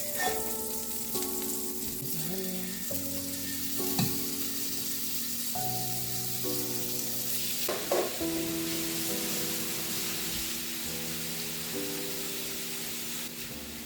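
Raw chicken pieces frying in a pan, a steady close sizzle and hiss running throughout under a music bed, with a few brief clatters as the pieces are flipped.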